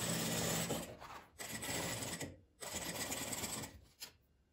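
A sewing machine stitches a handled plastic case in quick bursts, running in three close, fairly quiet stretches separated by short pauses.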